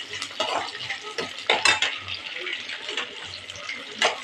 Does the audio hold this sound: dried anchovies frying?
yes